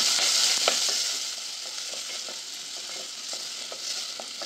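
Chopped onion frying in hot tempering oil for an egg masala, a steady bright sizzle with occasional stirring clicks from a spoon, loudest at the start and settling into an even fry, no voices.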